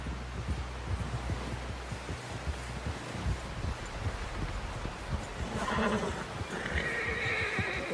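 A horse in Red Dead Redemption 2 snorts and whinnies amid plodding hoofbeats, close and clear over a low rumble, with a brief higher-pitched neigh near the end.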